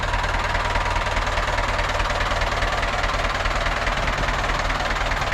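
The engine of a hand-crank started farm vehicle runs steadily, knocking in a fast, even rhythm, loud and close with no talk over it.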